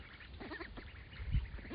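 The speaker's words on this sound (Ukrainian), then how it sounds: "лише вона поки що звуки видає, такі як качка" A farm duck kept over winter quacks in short, repeated calls at close range, with a soft low rumble beneath.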